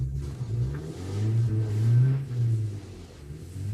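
BMW E36 318is engine revving hard under heavy throttle in third gear during a gymkhana drift, a loud, close, sustained droning rumble that swells and eases over a few seconds.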